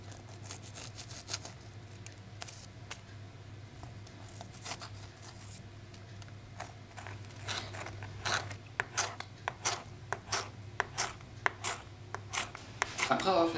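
A knife seeds and slices a chili pepper on a cutting board, at first soft scraping and rubbing, then a growing run of sharp, close, irregular cutting taps over a low background hum.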